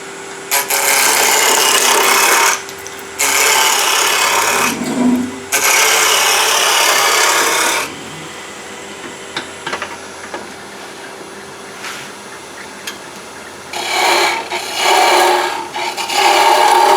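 Loud scraping wood-cutting bursts from a 3/8 spindle gouge on a spinning lathe, several long passes with pauses between, then quieter hum and more cutting.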